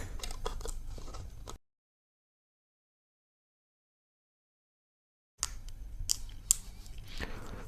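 Scissors cutting a film for the meter glass of a Honda 70 motorcycle, close crisp snipping and crunching in two bursts separated by a silent gap, with no talk.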